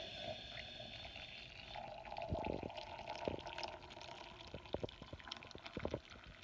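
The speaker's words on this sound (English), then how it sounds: "you boil water, and then I will pour that in here" Boiled water is poured into a candle jar, a faint trickle and gurgle with a few small drips and splashes toward the end, quiet and close.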